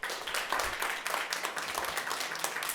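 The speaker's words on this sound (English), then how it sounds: "So please withhold your clapping, please." Audience members at a public committee hearing on State Street clap together, a soft, steady patter of many hands heard from some distance.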